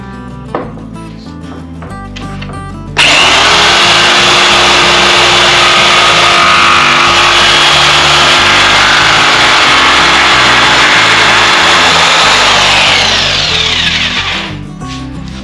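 A loud power tool cuts radius corners into the top of a wooden toy box, starting abruptly and then running as a steady, close, high whine for about ten seconds before it winds down, with no talk over it.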